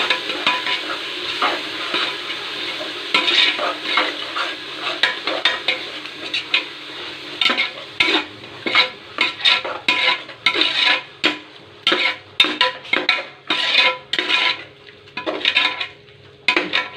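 Ginger garlic paste frying in oil in a pot with onions over low heat, a steady soft sizzle under repeated scraping and stirring strokes of a spoon against metal that grow busier and more rhythmic toward the end, with no talk.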